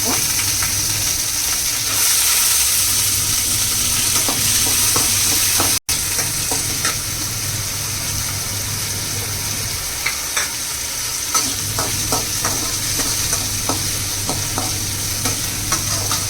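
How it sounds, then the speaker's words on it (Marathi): Potato and green chillies roast in a hot pan with oil, giving a constant loud close sizzle and hiss, broken by scattered clicks of stirring and one brief dropout partway through. "मी बटाटा चांगला भाजून घेऊया मिरच्या पण टाकूया मिरच्या पण भाजून घेऊया"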